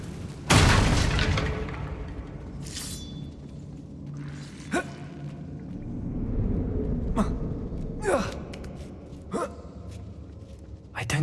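A Confringo spell explodes in a dark mine tomb in Hogwarts Legacy, a sharp loud blast followed by rumbling decay, with a person speaking and gasping throughout and smaller impacts later.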